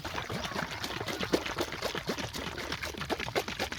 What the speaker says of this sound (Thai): ปิดฝาแล้วก็เขย่าให้เรียบร้อยนะคะ